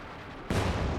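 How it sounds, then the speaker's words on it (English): A pack howitzer fires in Company of Heroes 2, a single sudden heavy boom halfway through that stays as a sustained low rumble to the end. "Pack howitzer firing somewhere."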